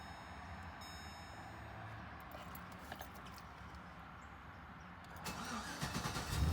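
Chevrolet Silverado truck engine cranking and catching near the end after a quiet stretch of low rumble, the engine swelling louder as it starts.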